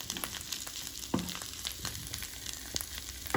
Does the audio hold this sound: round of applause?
no